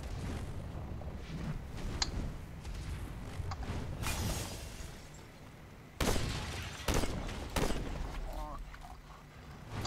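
Gunfire in the video game Saints Row IV, bursts of shots and blasts over a busy, noisy game mix, with a louder volley near the end.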